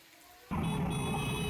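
Rain falls in Una, Gujarat, starting abruptly as a dense, steady, close hiss with a low rumbling undertone that continues to the end.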